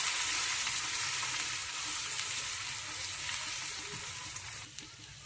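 Ginger paste sizzling in hot oil in a pan, a steady bright frying hiss that eases slightly over time, with a brief stir or clink near the end and no talking.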